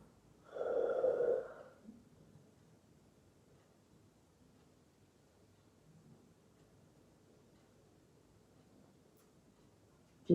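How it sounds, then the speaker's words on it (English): A single deep, loud breath is drawn close by during a yin yoga session. Near-silence follows, with only faint rustling. "Deeply inhaling and exhaling, expanding right through the ribcage. Allowing yourself some deep breaths."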